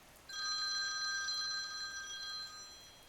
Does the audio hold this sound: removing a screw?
no